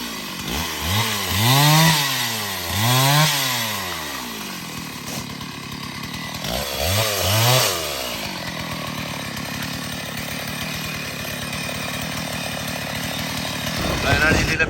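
A chainsaw cuts fallen trees after flooding in Periya, Wayanad. The engine revs up and down repeatedly between cuts, then settles into a steady idle, with voices faintly audible underneath.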